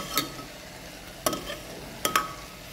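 Spices such as roasted cumin powder and Kashmiri chilli powder stirred and roasted in a pan for a vegetable shammi kebab, heard as three scraping, sizzling strokes with quiet gaps between.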